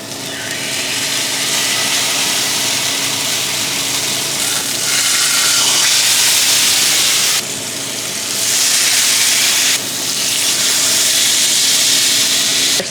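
Pork chops sizzling loudly in a hot cast iron pan, a dense continuous hiss that swells and eases in waves, close and with no talk.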